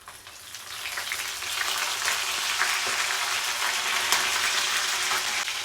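Garlic and curry leaves fry in hot oil for a poricha kuzhambu with drumstick, giving a steady, close, moderately loud crackling sizzle with no break from start to finish and no talking.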